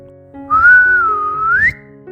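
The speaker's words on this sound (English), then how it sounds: "Lord Ganesha went to the forest and whistled." A single sustained human whistle, a smooth tone that glides gently and rises at the end, clear and close against a faint background hum.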